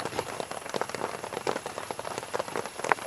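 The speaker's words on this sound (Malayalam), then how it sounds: "നല്ല മഴ ഉണ്ട് കേട്ടോ. മഴയുടെ സൗണ്ട് പൊടുപൊടുന്ന് കേൾക്കണ്" Heavy rain pours down steadily, a dense pattering hiss of drops drumming on a surface, loud and continuous throughout.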